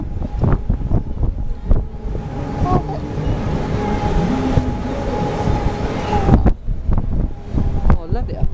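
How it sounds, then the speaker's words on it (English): Strong wind buffets the microphone high on a rotating observation tower ride, a Buwalda Kriek Mondial Turbine, roaring loudly and steadily with a low mechanical hum beneath, easing off briefly near the end. "And a lot of wind."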